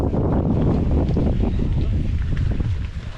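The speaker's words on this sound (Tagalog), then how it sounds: "Hangin, lakas ng hangin dan." Strong wind buffeting the microphone, loud gusty roaring rumble that swells and dips, with a faint hint of water in the background.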